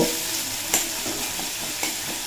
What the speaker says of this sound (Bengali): পেঁয়াজটা বেশ নরম করে ভেজে নিয়েছি